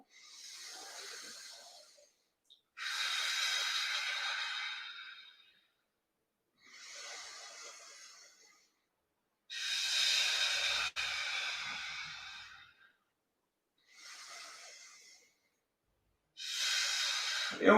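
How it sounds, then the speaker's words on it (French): Deep, slow breaths during a back-focused gym exercise session, heard as several long airy inhales and exhales in a steady rhythm, close and fairly loud, with quiet pauses between them and no talking. "On va commencer par 3 grandes respirations."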